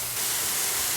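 A striploin roast searing in a hot pan gives a steady, loud hiss of sizzling that swells slightly after a brief start and holds close and constant.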